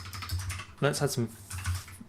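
Computer keyboard keys clatter in quick, uneven bursts at close range, with a voice talking briefly over the typing midway.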